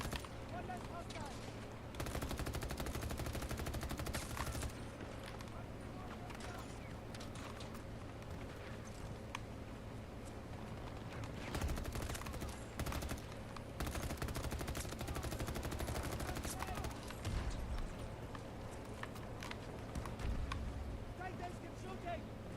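Rapid gunfire from the Battlefield video game, dense bursts of automatic shots in a sustained firefight, with voices calling out over the shooting.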